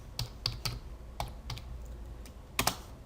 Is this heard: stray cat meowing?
no